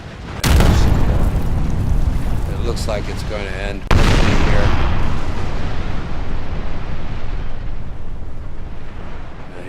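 Broadside cannon fire from sailing warships in a Napoleon: Total War multiplayer sea battle, with a dense run of booming shots and one sharp loud blast midway over continuous battle rumble, while a commentator talks.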